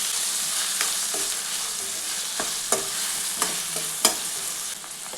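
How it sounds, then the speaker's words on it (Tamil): Onions and a small amount of chopped tomato sizzle steadily in a frying pan, with occasional soft stirring scrapes and clinks over the continuous hiss, no voices. "நல்லா வெங்காயம் இந்த அளவுக்கு வதங்கணும்"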